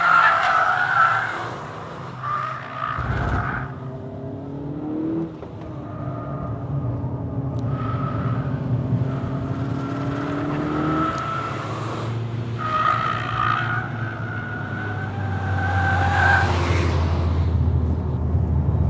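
A 2-litre turbocharged Audi S1 revs hard, its engine note sweeping up and down through repeated throttle blips and gear changes while tyres scrub and skid during a drift under braking, steady and close throughout.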